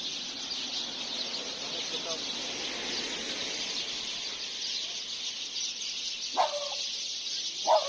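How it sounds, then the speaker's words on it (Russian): Birds calling outdoors on a warm December day in Serbia, a steady high chirring chorus that stays fairly even, with two sharper calls standing out near the end. "Здесь орут птицы."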